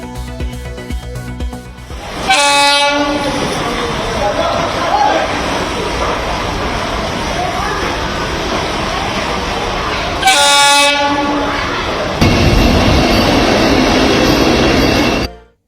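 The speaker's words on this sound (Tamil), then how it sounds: "சென்னை கடற்கரை வாலாஜாபாத் இடையே வந்தே மெட்ரோ ரயில் சோதனை ஓட்டம்." Vande Metro train on a trial run between Chennai Beach and Walajabad, passing through Royapuram, Perambur and Villivakkam: loud rumble of rolling carriages with two long horn blasts, the rail noise swelling near the end.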